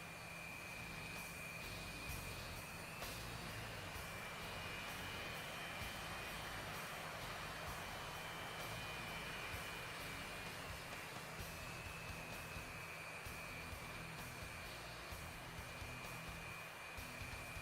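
Jet aircraft engines idle and taxi onto the runway in a combat flight simulator, a steady broadband roar with a sustained high whine, continuous and fairly loud with no talking.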